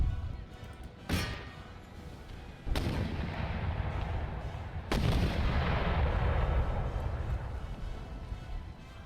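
Artillery and mortar fire in the Empire Total War video game, with three sharp, heavy booms spaced a couple of seconds apart over a continuous battlefield rumble.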